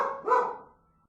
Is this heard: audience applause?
no